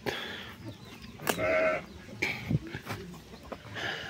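Goats bleat at a village livestock farm set between two mountains, several short, nearby calls in bursts with outdoor ambience and faint background chatter.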